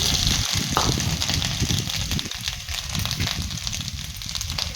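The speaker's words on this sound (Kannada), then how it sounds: "ನೆಕ್ಸ್ಟ್ ಕ್ಯಾರೆಟನ್ನು ತುಪ್ಪದಲ್ಲಿ ಫ್ರೈ ಮಾಡಬೇಕು." Fresh carrots fry in ghee for halwa with a continuous close sizzle and light crackling, plus occasional stirring scrapes in the pan.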